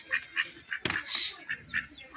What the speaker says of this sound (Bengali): আর এই দেখেন হাঁস আছে,